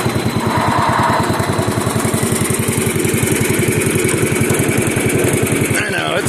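Bolens garden tractor engine running while being driven off a trailer after a tractor show, a loud close single-cylinder chug with steady rapid firing, with voices talking over it.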